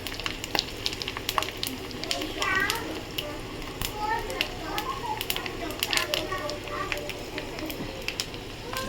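Bay leaf, dried chili and panch phoron crackle and sizzle in leftover hilsa fish oil in a pan, with steady frying hiss and sharp pops while someone talks over it.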